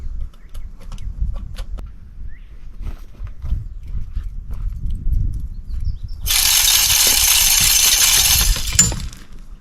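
Low rumbling background noise, then a ranch feeder's loud hissing spray of feed bursts in for about three seconds during a test before cutting off abruptly.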